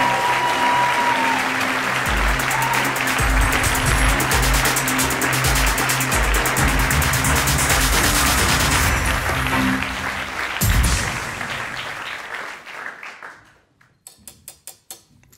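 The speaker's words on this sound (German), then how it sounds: "Orchestralen Applaus" Long, loud applause from an audience at a science slam in Salzburg, with tonal music sounding under it. The clapping holds steady, then fades away into a few scattered claps.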